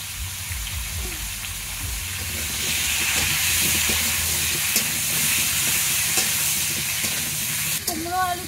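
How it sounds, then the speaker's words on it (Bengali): Pumpkin and potato fry together in fish-frying oil in a wok, a loud, steady hiss of sizzling oil close by with faint stirring clatter and a brief clink near the end. "এবার কড়াইয়ে এই মাছ ভাজা তেলের মধ্যে আমি কুমড়ো আর আলু একসঙ্গে ভেজে নেব"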